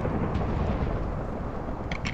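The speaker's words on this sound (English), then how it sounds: "this will create a thunder upon impact" Thunder from a lightning strike triggered by a snowball grenade in Minecraft's GrenadeCraft plugin: a loud, continuous low rumble that rolls on for the whole stretch without a break.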